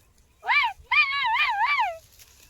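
A man imitates a dog barking with his voice: one short yelping bark, then a longer wavering run of three or four yips close to the listener, with silence around them.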